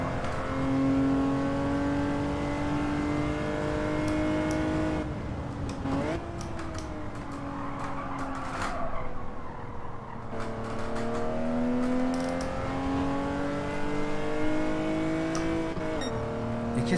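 Engine of a BMW racing in Gran Turismo 7, revving hard and climbing through gears with quick upshifts and brief dips, a continuous loud in-game roar over seventeen seconds.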